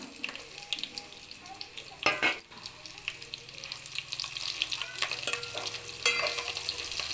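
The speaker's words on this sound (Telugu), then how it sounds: "మిగిలిన ఆయిల్లోనే మనము దీన్ని డీప్ ఫ్రై చేసుకోవాలి" Bitter gourd crackles and sizzles while deep frying in hot oil, a dense close hiss broken by crisp pops and a couple of sharp spatula clanks, with a faint voice briefly in the background.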